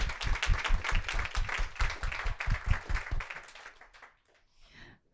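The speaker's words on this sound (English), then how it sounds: "let's give that an applause" Applause at a community impact report launch event, starting as rhythmic, fairly close clapping from a modest group, then thinning out and fading to near silence with a few scattered claps at the end.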